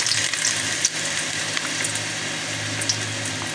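Ginger pieces dropped into hot cooking oil for a chicken feet dish, giving a steady broadband sizzle and hiss that holds evenly throughout, fairly close and alone with no voices.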